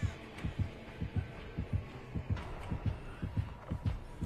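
In the Dead by Daylight video game, the heartbeat warning thumps in a steady, even double-beat rhythm, low and pounding, repeating continuously for several seconds with faint background noise.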